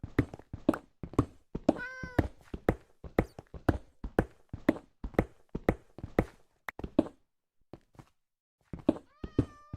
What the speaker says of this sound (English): Oh, that calico cat's pretty.